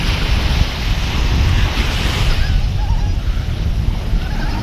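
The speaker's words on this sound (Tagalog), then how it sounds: "yan ang kalagayan ng ng dagat ngayon" Rough sea waves breaking at the shore, a steady loud roar of surf with heavy wind buffeting the microphone throughout.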